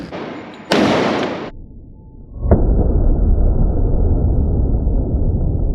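Smith & Wesson M&P 2.0 10mm pistol with a 4.6-inch barrel firing: one sharp, loud shot, a second crack a moment later, then a sustained roaring wash of noise afterward.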